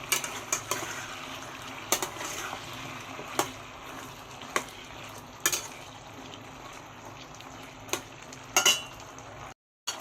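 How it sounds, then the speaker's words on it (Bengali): Chopped tomato frying in oil in a pan, a steady close sizzle with repeated sharp clinks and scrapes of a spoon stirring against the metal, briefly cutting out near the end. "এবার আমি টমেটো কুচিটা অ্যাড করে দেবো, দিয়ে আর কিছুক্ষণ ভাজবো।"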